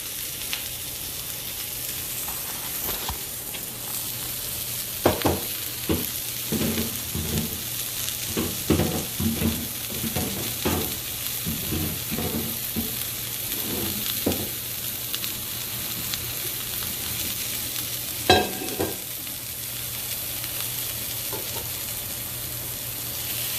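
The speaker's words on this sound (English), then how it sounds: "while this is sauteing" Food sautés in a hot pan with a steady, close sizzling hiss, broken by bursts of stirring and scraping from about five to nineteen seconds, with no talking.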